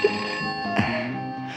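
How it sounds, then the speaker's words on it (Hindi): A telephone rings with a sustained ringing tone, close and fairly loud, with a brief clatter in the middle. "फोन तो उठाओ।"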